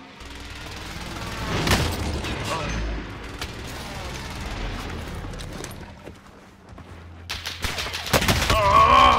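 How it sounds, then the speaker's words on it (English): Several heavy booming blasts from a precision airstrike in Call of Duty Warzone on Rebirth Island, with loud impacts near the start and a dense cluster at the end, mixed with gunfire and game noise. "Friendly precision airstrike inbound."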